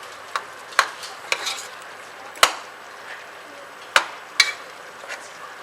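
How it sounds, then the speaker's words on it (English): Chicken curry with potatoes being stirred in a pot: a spoon scrapes and knocks against the sides in irregular sharp clicks and taps over a soft, low simmering bed, close and fairly quiet. "Give it a good stir."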